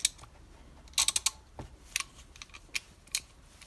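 A newly bought ratchet tool being switched and clicked by hand, giving sharp, close, irregular metallic ticks and short bursts of clicks over a quiet background, no speech.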